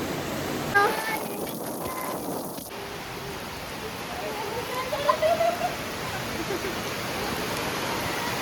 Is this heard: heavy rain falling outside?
yes